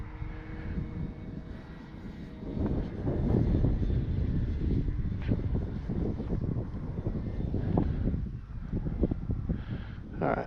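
An Arrows RC Bigfoot PNP model airplane flies with a steady propeller-engine buzz that swells and fades slightly as it passes, mixed with wind rushing over the microphone.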